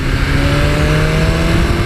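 A 2019 BMW S1000RR sports motorcycle's engine revs loudly and continuously up close, a dense, smooth high-pitched roar that climbs steadily without breaks.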